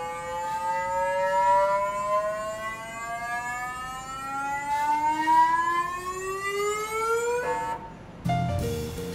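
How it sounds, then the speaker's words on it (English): NASA's SAM instrument on the Curiosity rover testbed hums through a resonance as a sample is introduced, giving a loud, steady, siren-like tone that slowly glides upward with strong overtones before cutting off abruptly. "When we're introducing a sample into SAM, it'll go through a resonance and it'll sound like this."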